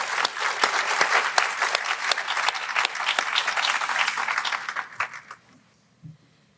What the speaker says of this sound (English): If we give him a big round of applause real quick.